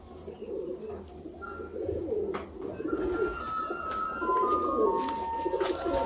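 Sialkoti Ali wala pigeons of a pure breed coo in low, repeated rolling calls throughout, with a few brighter chirps and faint background clatter.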